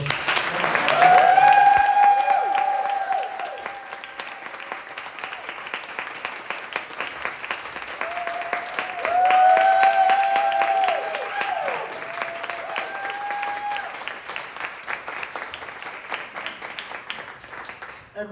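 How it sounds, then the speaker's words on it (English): A big crowd at a teen panel during Family Week gives a sustained round of applause. Dense clapping runs throughout, and cheering voices rise twice above it. "I would love to hear a huge round of applause for"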